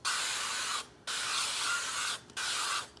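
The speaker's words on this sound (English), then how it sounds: "I am starting with using the Primal Kitchen avocado oil spray, and I am just gonna spray that all over the crock pot" Avocado oil aerosol spray hissing into a crock pot in three close, steady bursts separated by brief pauses.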